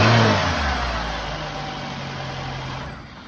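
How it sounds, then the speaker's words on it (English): A car engine revs loudly at first, then settles and slowly winds down to a steady idle hum, close up. "as you can hear, we revved it up."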